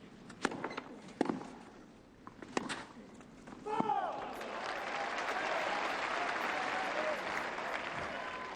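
A crowd at the Roland Garros tennis final applauds, beginning as scattered claps and swelling into sustained, broad applause across the stadium while a commentator talks over it.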